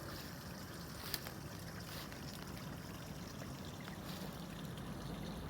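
A small stream, Skunk Run, flows out of a hillside under brown knotweed toward a road culvert, making a steady, soft trickling wash with no talking.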